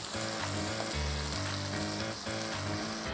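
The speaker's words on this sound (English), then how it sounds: "Give everything a good stir." Onion and lime leaf fry and crackle in a pan, with a steady loud sizzle and stirring scrapes cutting through it, heard up close and without talk, during a home cook's Malaysian turmeric fried chicken dish with green sambal.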